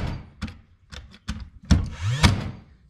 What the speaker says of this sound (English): I'm just gonna run a couple staples in here.